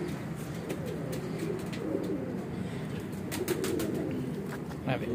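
Several pigeons coo in a steady, overlapping murmur close by, with faint rustles and occasional wingbeats among the flock; someone speaks nearby in places.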